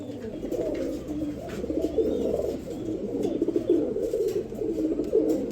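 Down face pigeons coo steadily in a low murmuring chorus, several birds overlapping continuously at moderate volume with faint background rustle.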